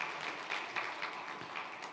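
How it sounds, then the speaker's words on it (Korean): A church congregation applauding members of the middle-school group, a brief, faint spatter of clapping at some distance. "우리가 박수로 한번 축하해드리도록 하겠습니다"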